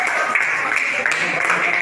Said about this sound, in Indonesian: tepuk tangan untuk Rafi.